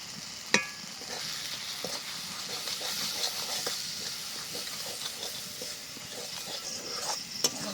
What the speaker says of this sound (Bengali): এই কাজু বাদাম বাটাটা দেওয়ার পরে বেশ ভালো করে খানিকক্ষণ ধরে কষিয়ে নিতে হবে